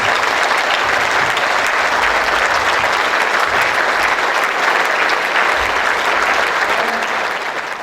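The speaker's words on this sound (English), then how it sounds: "All I'm asking for is a minute's applause for all of those that people have mentioned tonight." Diners at a football club reunion dinner applaud in tribute, a full, unbroken wash of clapping from a large room, loud and even throughout before easing a little at the close.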